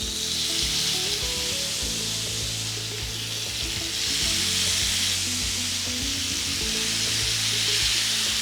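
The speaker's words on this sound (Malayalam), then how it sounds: "പാൻ നന്നായിട്ട് ചൂടായി, ചിക്കനിൽ വെച്ച് ഗ്രില്ല് ചെയ്തെടുക്കുക." Chicken for Turkish kebabs grills in a well-heated pan, giving a loud, continuous sizzle that swells and eases slightly, close up with no voices.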